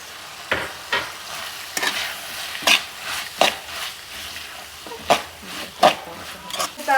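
Noodles with turmeric, oregano and peas are stirred in a frying pan, a series of sharp scraping clinks every second or so over a low sizzle, close and fairly loud, no talking.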